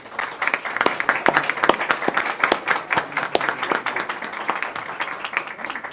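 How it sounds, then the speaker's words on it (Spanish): Applause from the audience at a press conference for signing memoranda with UN Women and UNICEF: steady clapping from a moderate crowd, with distinct individual claps standing out throughout. "pido un aplauso para Sobeida Aragundi, Solanda Goyes y Margarita Carranco"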